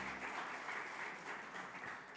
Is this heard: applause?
yes